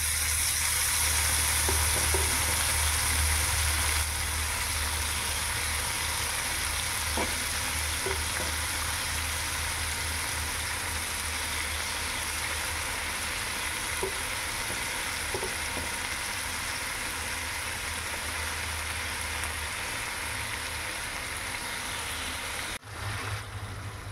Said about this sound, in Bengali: এইবারে আমরা যে মোচাটা সেদ্ধ করে রেখেছিলাম সেই সেদ্ধ মোচাটা জল ঝরিয়ে এর মধ্যে দিয়ে দেব।